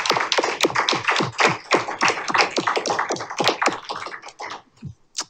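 Scattered applause from a small audience at a city council meeting: a run of distinct, fairly close hand claps in an uneven rhythm that thins out toward the end, with no talking.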